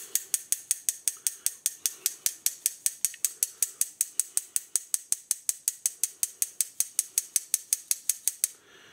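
A grinder crushes dried chillies into chili powder, producing a steady, fast train of sharp, evenly spaced mechanical clicks that runs for several seconds and then stops abruptly.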